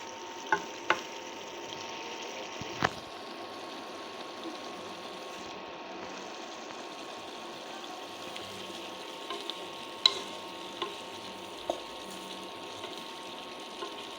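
Flat beans and potatoes frying in a pan with dried chilli and a splash of water, a soft continuous sizzle with a few sharp clicks of stirring scattered throughout.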